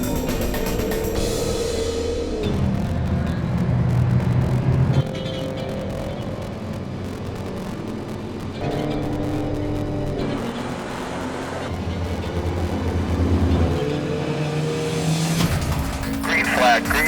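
Race cars roar off at the start of a race, with loud engines rising and shifting through gears and tires squealing, the din continuous and close while a voice talks over it.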